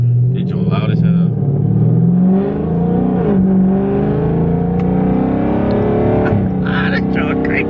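Loud Dodge Scat Pack engine rumbling and revving steadily up close, with voices talking over the throaty drone throughout.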